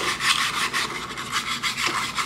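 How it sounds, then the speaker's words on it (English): A wire brush scrubs the underside of the heater on a Better Packages BP555e gummed tape dispenser, giving a close, rapid back-and-forth rasping in short repeated strokes. "Then I'll take my wire brush."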